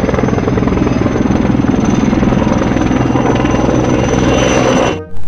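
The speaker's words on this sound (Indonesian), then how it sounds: "Wah, baling-balingnya berputar. Ini helikopter pemadam kebakaran." Toy fire-fighting helicopter with a spinning propeller, a steady loud mechanical whir and buzz holding for about five seconds before cutting off abruptly.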